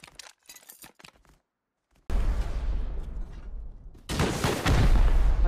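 Full-auto AK rifle fire in the survival game Rust, heard as two loud, dense bursts of rapid shots after a short quiet stretch, with the second burst heavier and more sustained.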